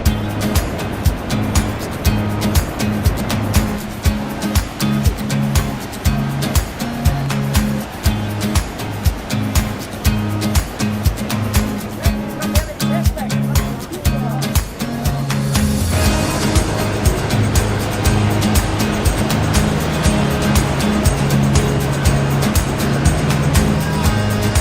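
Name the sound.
Iguaçu waterfalls roaring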